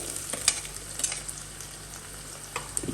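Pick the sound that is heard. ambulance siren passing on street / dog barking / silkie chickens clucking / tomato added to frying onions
tomato added to frying onions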